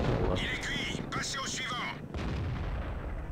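An AMX 13 57 F tank cannon fires in World of Tanks, a loud booming blast with heavy rumbling sustained through the clip, mixed with game effects and a voice talking over it.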